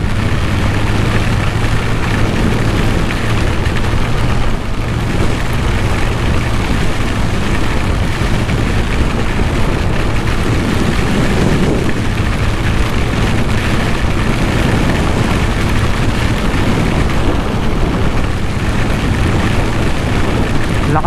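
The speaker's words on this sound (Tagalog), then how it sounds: "Pero sobrang lakas ng ulan guys." Heavy rain during a motorcycle ride through Quezon province, a loud, constant roar of rain and wind noise mixed with the engine, unbroken throughout.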